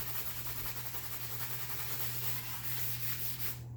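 Steady abrasive rubbing on the edge of a HEMA steel sword, working down a burr, a continuous gritty scraping that runs evenly for several seconds over a low constant hum, close and fairly quiet.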